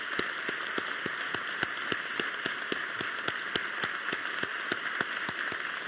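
Steady applause from an audience at a graduation ceremony for small business graduates, continuous even clapping with distinct sharp claps standing out, no voices over it.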